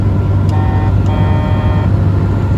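An aftermarket eBay horn installed on an old, loud Toyota HiLux sounds a bright tonal blast for just over a second, repeated after a short break, over a steady low engine and road rumble.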